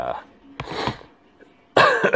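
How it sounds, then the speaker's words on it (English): A person coughs in several harsh, throaty bursts, close to the microphone and loud, with short pauses between them while working on skinning a PS4 controller. "To keep from blasting your eardrums on me coughing sound like I'm dying"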